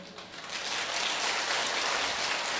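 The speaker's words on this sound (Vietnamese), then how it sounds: "Kìa họ vỗ tay sùm kìa" A dense, steady wash of audience applause from a crowd gathered at a temple, sustained and fairly loud throughout without a break.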